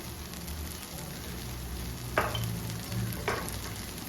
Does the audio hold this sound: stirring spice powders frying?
yes